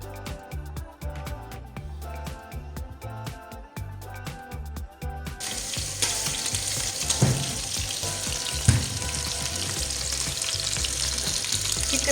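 Chicken sizzling in a pan for a Mahmoos Khattaifi-style Arabian dish, a steady loud fry that thickens partway through as more sizzle builds, with occasional clinks and no talk.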